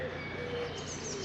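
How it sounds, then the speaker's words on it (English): Birds singing beside a canal on the Leeds and Liverpool route, with soft cooing and light chirps over a steady faint outdoor background, quiet and somewhat distant. "did you want the sound of the birds"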